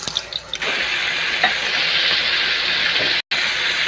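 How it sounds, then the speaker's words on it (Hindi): Koftas frying in a cup of hot oil for kofta curry, a steady loud broadband sizzle that holds evenly throughout with a brief dropout near the end. "कोफ्ते हम फ्राई करेंगे।"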